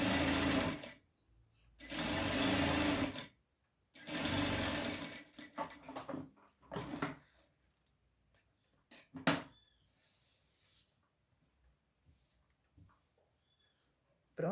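A sewing machine stitching an embroidered trim onto a cloth diaper, running in three loud close bursts of rapid whirring, followed by quieter handling clicks and light rustling of fabric.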